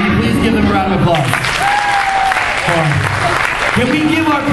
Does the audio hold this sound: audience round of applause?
yes